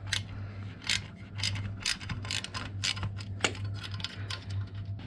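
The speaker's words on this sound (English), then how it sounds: "I'm going to undo this, make sure that's tight, and undo this 6mm Allen key here." Metal tool clicks and ratcheting ticks while a 6mm Allen key bolt is undone on an Abba Skylift motorcycle lift stand, a run of close, uneven mechanical clacks over a steady low hum.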